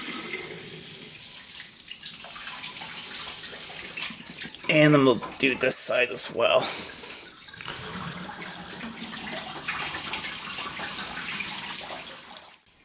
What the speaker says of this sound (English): I'm going to take the hose and just flush it out the normal way a little bit